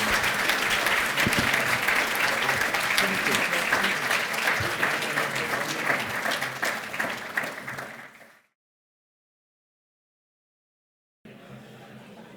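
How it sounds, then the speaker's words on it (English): Loud, dense applause from a large crowd at an apprenticeship awards dinner fills the room for about eight seconds, then cuts to silence before faint room noise resumes. "Let's give them a big round of applause."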